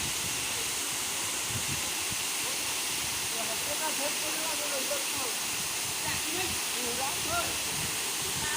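Water pours down a waterfall at Nalichuan, Giri Gobardhan, as a loud, continuous rushing hiss with a person talking faintly underneath.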